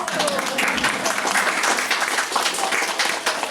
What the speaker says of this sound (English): Everyone give a round of applause for our new calf.